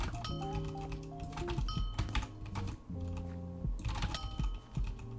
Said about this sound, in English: jitter clicking is also amazing on these switches